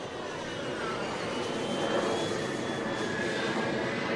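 A T-33 jet on landing approach with gear down gives a steady, broad roaring whoosh of jet engine, moderately loud and continuous, with no voices.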